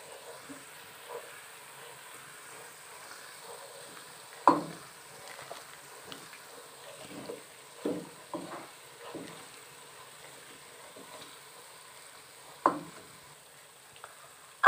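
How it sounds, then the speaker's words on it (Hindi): A spoon stirs garam masala and red chilli powder into potatoes and peas in a pan, giving soft scraping strokes with several sharper knocks against the pan over a faint steady sizzle, with no talking. "चम्मच की मदद से हम इसे अच्छी तरह मिक्स कर लेंगे।"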